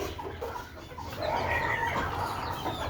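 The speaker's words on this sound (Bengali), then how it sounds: "এগুলো সবগুলো দেশি মুরগি" Desi chickens on a home poultry yard cluck softly and intermittently against a low background hum, with no speech.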